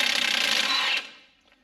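A ratchet turning a 35mm socket on a Chevy Silverado 4WD front axle nut gives a rapid burst of close metallic clicking for about a second, then fades quickly.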